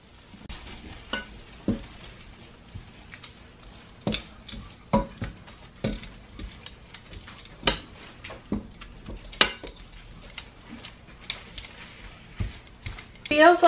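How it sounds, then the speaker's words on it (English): Pasta stirred in a pan as it cooks, a spoon scraping and knocking in short irregular strokes over a steady low sizzle, close and moderately loud through the whole stretch. "I'm going to give this another stir."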